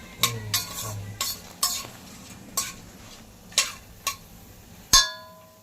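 Cumin and whole spices sauté in hot oil and ghee for pea pulao, giving a steady close sizzle broken by a series of sharp scraping and clinking strokes from a spoon against the pan, the last one loudest.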